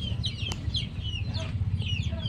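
Chickens in a breeding pen cluck and chatter in short overlapping bursts, close and moderately loud, over a low, steady background rumble.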